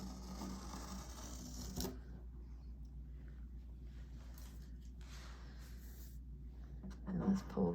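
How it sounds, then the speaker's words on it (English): Tape is peeled slowly off a soft pastel painting, giving a faint, drawn-out ticking and ripping texture with a louder tug at the start and near the end, over quiet room noise. "back to peeling tape"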